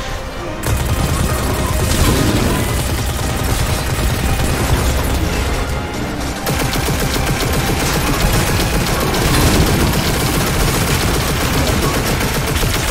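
Sustained, loud automatic gunfire from the video game Destiny 2 Lightfall, dense and continuous bursts with only a brief break partway through.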